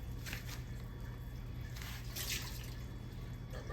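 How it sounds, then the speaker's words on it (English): Canned vegetables drain through a small kitchen strainer, a steady close trickle of liquid with a few drips and squishy wet movements, no one speaking. "And I'm going to just strain my vegetables."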